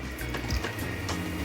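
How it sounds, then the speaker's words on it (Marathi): Washing water draining off soaked millet, a steady rushing pour of liquid that stays close and fairly loud through the short stretch, with no voices. "परत एकदा चांगल्या पाण्याने धुवून हे पाणी काढून टाकायचं"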